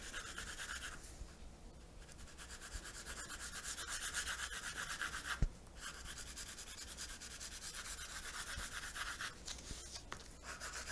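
A pencil lightly shades gray across paper in a drawing lesson, making a close, steady, soft scratchy rubbing in continuous strokes with brief pauses and one faint tap.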